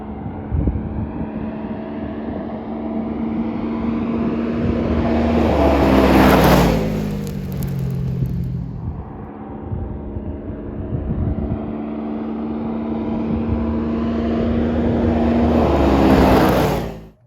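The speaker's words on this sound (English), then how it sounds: "One last pass, full throttle, with our 2023 RZR XP 1000." A 2023 Polaris RZR XP 1000 side-by-side passes at full throttle on a top speed run, its engine note swelling loudly as it nears, dipping in pitch as it goes by, then a second pass builds again.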